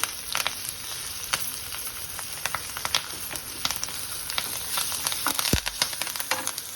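Green chillies and curry leaves frying in hot oil, a bright crackling sizzle with quick pops and occasional stirring clicks, close and steady with no voices.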